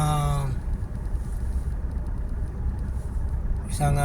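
A company car's engine runs at a steady idle, a low continuous rumble in the middle of the stretch, with someone speaking just before and after it.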